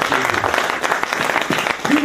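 A church congregation applauds the Lord in brief, scattered clapping mixed with voices and exclamations, fairly close and loud for about two seconds.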